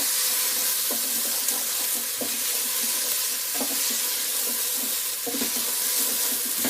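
Onions for a Thai green curry sizzle steadily in a pan, a dense bright frying hiss broken by regular soft scrapes and knocks of stirring, close up.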